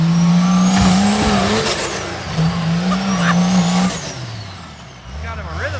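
The Cummins diesel engine of a monster truck revs hard and close in repeated surging bursts, its pitch climbing and falling, with people talking over it.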